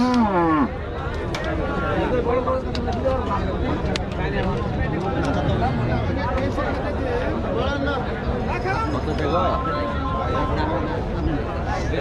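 Cattle lowing and mooing at a busy cattle market in Rajshahi, repeated calls heard amid constant crowd chatter and people talking close by.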